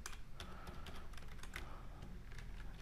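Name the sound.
typing on a computer keyboard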